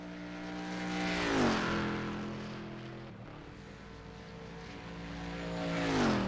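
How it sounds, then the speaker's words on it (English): On-board race car engine at Road America screaming through the gears, a loud, high harmonic whine that climbs, drops sharply on a shift and lift, then climbs again, with no voices. "letting the engine scream here today at Road America"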